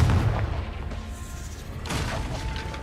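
A Confringo fire spell bursts in the Hogwarts Legacy game, a heavy boom at the start and a second explosive blast a moment later, loud and close.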